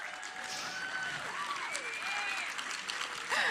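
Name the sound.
audience applause at panel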